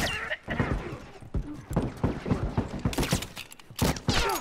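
Gunfire in The Last of Us, a run of sharp, separate shots at irregular intervals, some close and loud, with voices talking between them.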